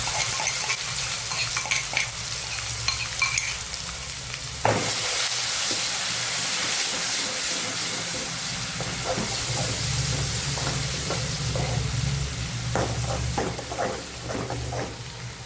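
Mustard seeds, cumin, asafoetida and ginger-chili paste tempering in hot oil, with a loud continuous sizzle and spatter, a sharp burst when the paste goes in, then spoon stirring and scraping against the pan.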